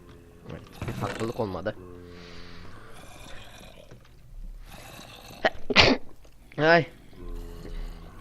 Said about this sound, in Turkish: Hapşırıp hapşırıp duruyorum.